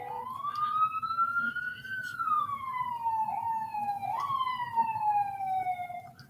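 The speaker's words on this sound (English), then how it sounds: "I swear it seems like only here in New York I get so many sirens" A single emergency siren wails along a New York City street, its tone rising and falling in slow sweeps, fairly near and clear above a low traffic hum.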